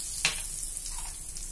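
Asafoetida dropped into hot mustard oil gives a sharp burst of crackling, then settles into a steady close sizzle, with no voices.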